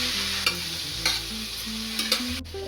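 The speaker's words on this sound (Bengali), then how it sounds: "এই যে আমি সবজিগুলো সব ভালো করে ভেজে নিয়েছি" Vegetables frying in a pan for Bengali-style egg pulao, with a steady close sizzle and a few sharp scrapes of the stirring spoon spaced through it.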